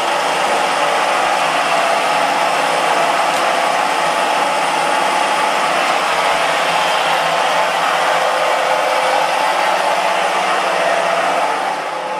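Feed motor and main spindle of a machine tool running together, a steady loud mechanical whir and hum that holds evenly throughout with no talk.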